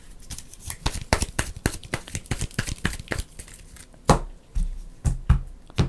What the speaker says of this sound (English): We're going to shuffle these back into our deck.